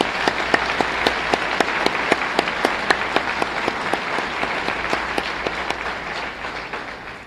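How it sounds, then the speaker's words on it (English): Loud, sustained applause from a large audience for a 2017 high school graduating class, dense steady clapping throughout with sharp individual claps standing out, tapering slightly near the end. "Let's give them a round of applause,"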